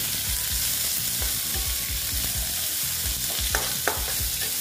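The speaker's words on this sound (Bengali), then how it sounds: "পেঁয়াজগুলোকে আমি ভালো মতো লাল করে ভেজে নেব" Onions fry in a pan for a potol curry with a steady loud sizzle, while a spatula scrapes and taps in a repeated rhythm and a couple of sharper clinks come near the end.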